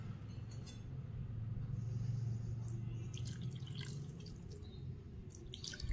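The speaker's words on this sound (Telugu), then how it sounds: "కొంచెం వాటర్ వేసుకుందామండి." Boiled, cooled water is poured into pearl millet flour to make dough for sweet fritters, giving a faint, steady trickle with small drips and light clinks close by.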